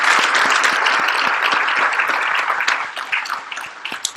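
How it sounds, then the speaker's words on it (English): Sustained applause from an audience honoring a high school head football coach, dense steady clapping that fills the room and eases off slightly toward the end. "Nice round of applause for Doug."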